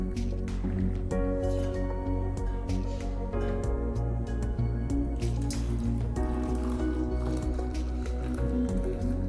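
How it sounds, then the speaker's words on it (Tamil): Hot dry ginger coffee is poured through a sieve, giving a steady splashing, trickling stream of liquid with wet squishy drips close to the microphone, running continuously for several seconds. "இதுபோல் ஒரு சல்லடை வச்சு வடிச்சுக்குங்க."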